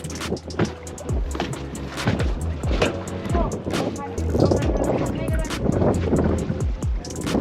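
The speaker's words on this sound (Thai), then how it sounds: "เดี๋ยวผมไปติดเครื่องถอนหมอก่อน" A fishing boat's engine starts and runs at sea off Chumphon while trolling for mackerel, a loud, steady rumble and churn under people talking.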